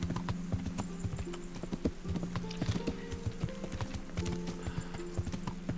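Horse hooves clip-clop steadily on hard ground while riding in the video game Kingdom Come: Deliverance, a close, rhythmic patter of hoofbeats with a brief whinny, no talk.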